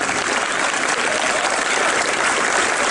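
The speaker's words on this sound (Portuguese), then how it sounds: "pedir uma salva de palmas para a nossa diretora Dani" Loud, dense applause fills a school's 80th anniversary celebration as the audience honors the school director, a continuous wash of many clapping hands with no pauses.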